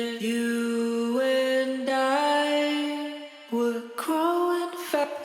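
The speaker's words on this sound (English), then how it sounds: "So you can kind of hear that delay" Indie pop lead vocals, treated with a delay effect, singing a sustained melodic line with held notes and soft echoing repeats trailing behind each phrase.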